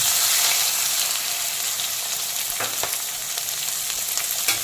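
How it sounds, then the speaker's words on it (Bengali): Chopped onion hits hot oil with lightly fried tempering spices for a fish curry, giving a loud, continuous sizzle with a few sharp crackles and stirring scrapes close by. "প্রথমে দিয়ে দিচ্ছি পেঁয়াজ কুচি"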